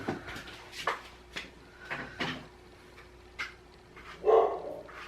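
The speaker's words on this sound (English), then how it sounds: "Oh, for fuck's sake, dogs." Dogs barking nearby in short, scattered bursts with brief gaps between, including a few yips and whimpers, ending in a louder cluster of barks.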